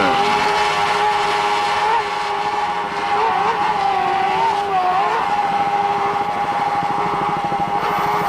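Johnson GT 300 horsepower outboard engines on a racing boat at Lake of the Ozarks, a loud steady high-pitched drone with rising and falling pitch as the boat passes, continuous with no talk.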